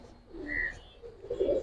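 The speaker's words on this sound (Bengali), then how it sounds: "একদম ফুল করিদমের কবুতরটা দেখাই দিই" Faint, soft coos from a full karidom pigeon, a couple of low murmuring bursts heard at some distance in a quiet setting.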